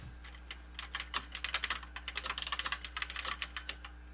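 Fast, steady typing on the keyboard of a vintage Triumph Adler / Royal Alphatronic PC, with crisp key clicks in quick bursts over a low electrical hum.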